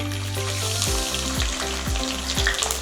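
Garlic sizzles loudly in hot coconut oil with popped mustard seeds and fenugreek for Kerala mackerel curry, a steady close frying hiss with a few stirring scrapes in the pan.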